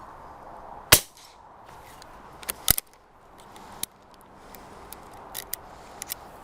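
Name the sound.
gunshot from a 9mm garden gun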